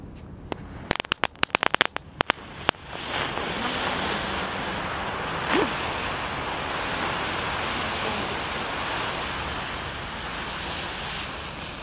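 Firecrackers lit on spinning tops crackle in a quick burst of sharp pops near the start. A steady, loud, hissing, roaring burn follows and carries on to the end.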